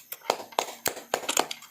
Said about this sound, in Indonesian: Tepuk tangan dulu untuk kelompok A